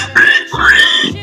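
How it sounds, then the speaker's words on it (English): A single warthog gives a short, loud grunting snort, rough and nasal, lasting about a second up close. "Warthog."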